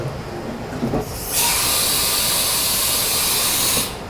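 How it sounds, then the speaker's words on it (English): Haas VF-3 vertical machining center performing a tool change, giving a loud, steady pneumatic hiss that bursts in after a few mechanical clunks and runs about two and a half seconds before cutting off, alone without talk. "All right, we'll do a tool change."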